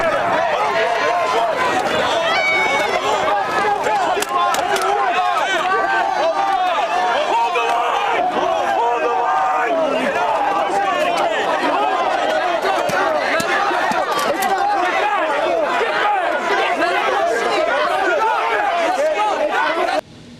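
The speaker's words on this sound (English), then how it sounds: "officers deploy their pepper balls, which really starts to disperse the crowd" A protest crowd runs and scatters after police fire pepper balls, giving a dense, steady babble of shouting and chatter with hurried movement throughout, while a voice talks over the commotion.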